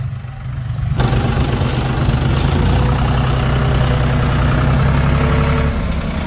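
A tractor engine idles close by with a steady low rumble and chug, louder after the first second and holding evenly to the end, with no voices.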